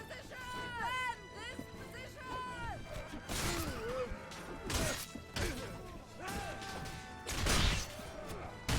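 Battle sounds from the Mount and Blade video game (Prophecy of Pendor mod): horses whinnying repeatedly amid crashes, thwacks and running hooves, with someone talking over the continuous combat noise.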